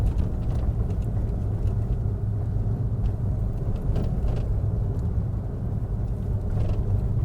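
Big trucks rumble along an outer ring road in East Java, a continuous heavy low engine and road drone heard from close by, with no talking.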